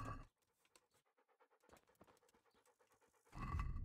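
A dog pants in rapid, steady rhythmic breaths inside the medieval video game Kingdom Come Deliverance, close and fairly quiet, with a louder burst of rustling noise at the very start and end.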